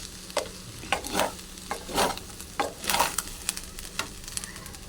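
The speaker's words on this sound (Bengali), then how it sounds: "এটাকেও নাড়াচাড়ি করে নেব" A leftover rice dish is stirred and fried in a pan, sweetened with a little sugar, with a series of irregular scraping, clattering spatula strokes over a soft sizzle.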